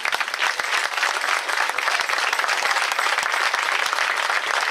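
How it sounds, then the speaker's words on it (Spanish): An audience at a church Mass with a nativity play claps steadily, a dense patter of many hands holding at an even level throughout with no voices over it. "pido un fuerte aplauso para ella"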